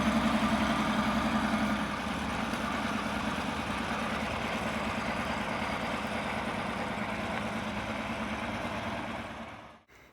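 A vintage MCI 8 bus converted to an RV idles and rumbles steadily as it turns around on a property, a low continuous engine drone heard close from the engine bay, easing slightly after two seconds and cutting off at the end.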